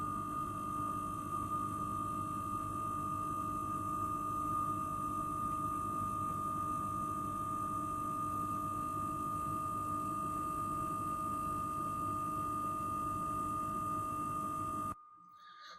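An LG refrigerator gives off a constant low electrical hum with a faint buzz that holds steady, then stops abruptly just before the end.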